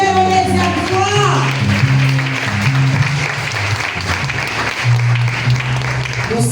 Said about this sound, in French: Applaudis mon Dieu, on est à toi.